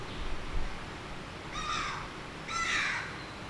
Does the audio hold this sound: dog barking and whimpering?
no